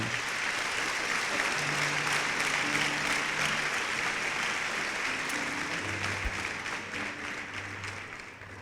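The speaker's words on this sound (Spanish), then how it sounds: "Dale un aplauso al Señor" A church congregation claps together in sustained, dense applause that stays loud and steady throughout before easing slightly toward the end, with a few faint voices mixed into the crowd noise.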